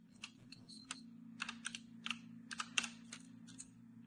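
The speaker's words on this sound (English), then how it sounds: "Command prompt, type ipconfig here." Quiet computer keyboard typing as ipconfig is entered in a command prompt: a short run of light, uneven key clicks with small pauses, over a steady low hum.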